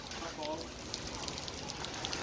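Heavy rain pours steadily at a horse paddock on a farm, a dense, even hiss with scattered louder drops and splashes, close and continuous throughout.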